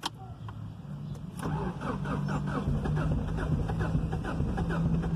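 A Ford Escort Zetec 16v engine cranks briefly, then catches and runs with a steady mid-pitched drone that builds slightly as it is revved, close by and without talk.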